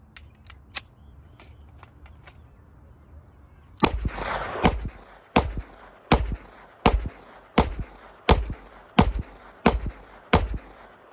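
A chrome Zigana F 30-bore pistol fires a second magazine outdoors: after a few light clicks, about nine sharp loud shots crack out close by in a fairly steady rhythm, each ringing briefly.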